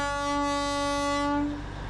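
A Darjeeling toy train held up by bus traffic sounds a long, loud, steady horn blast lasting well over a second before it cuts off, leaving street rumble behind.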